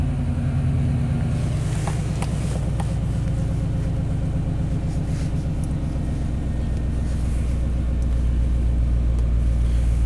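A 1991 Chevy K1500 truck engine idling up close, a steady, loud, low rumble with an even pulsing beat that holds for about ten seconds, with no talk over it.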